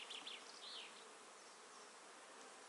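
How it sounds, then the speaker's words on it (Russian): Honeybees on a frame pulled from a hive hum in a steady, soft, continuous buzz, with a few individual bees briefly flying closer at the start, heard alone without voices. "вытягиваем вместе с пчелами"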